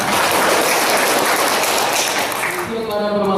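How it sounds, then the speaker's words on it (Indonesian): A large crowd of employees claps at the KSP Rona Miduk Group family gathering, a loud, sustained burst of applause that thins toward the end as a voice comes in. "Tepuk tangan dulu"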